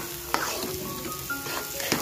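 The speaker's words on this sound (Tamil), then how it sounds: "போட்டு எல்லாத்தையும் சேர்த்து நல்லா மிக்ஸ் பண்ணி விட்டலாம்." Ghee is stirred into rice in a pot, giving a soft continuous sizzle with a few scraping stirs close by and faint voices murmuring underneath.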